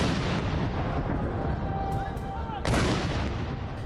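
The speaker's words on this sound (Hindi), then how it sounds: "इस बार परेड में जिन 21 तोपों की सलामी दी जाएगी वो भी पूरी तरह से स्वदेशी हैं।" Indigenous cannons firing a 21-gun salute at a Republic Day parade, heard as a loud rumbling boom in noisy outdoor ambience, with a second sharp blast near the end.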